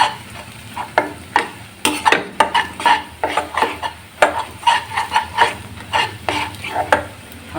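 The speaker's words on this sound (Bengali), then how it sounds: "আর এখন দিয়ে নেব 1 চামচ মরিচের গুঁড়া দিয়ে একটু নাড়াচাড়া করে নিতে হবে।" A spoon stirs chili powder into egg curry in a hot pan, giving repeated scraping clatters against the metal in an uneven rhythm over a soft, continuous sizzle. Each stroke is close and fairly loud.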